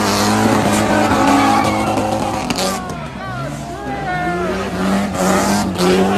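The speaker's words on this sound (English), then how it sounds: "Crazy cars doing donuts and drifting and such." Cars doing donuts and drifting in a big circle at a street takeover, loud screeching tire squeal and revving engines with shifting pitch, crowd voices audible underneath.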